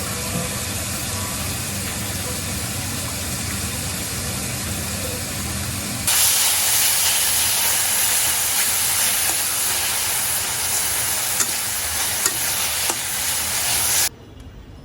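Beef rubbed with ginger, garlic and salt frying in hot oil, a loud continuous sizzle and hiss that jumps sharply brighter and louder about midway, holds, then drops away near the end.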